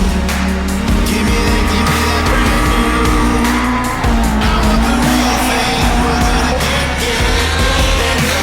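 Toyota AE86 race car recorded onboard on a circuit, its engine roaring loud and steady throughout with rising and falling revs at gear changes, sharp pops and squealing tires mixed in.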